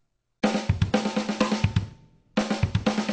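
Rock drum kit played in a fast pattern split between snare and double kick drums, rapid hits in two bursts separated by a short gap, close and loud with no voices.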